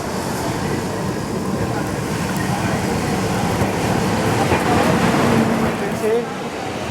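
The Gitanjali SF Express running between Mumbai and Howrah gives a continuous heavy rumble and rattle from inside the train, loud and unbroken, while a person talks over it.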